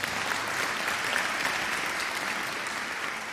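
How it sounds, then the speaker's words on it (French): An audience applauding an orchestra as the musicians stand and bow, a steady, dense wash of clapping from a large crowd that continues evenly throughout. "l'orchestre se lève et salue le public qui les applaudit"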